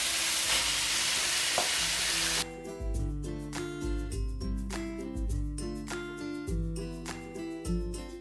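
Nasi goreng with beef stock stirred in a hot pan, a steady sizzle with soft scraping strokes of the utensil against the metal, close and continuous with no talking.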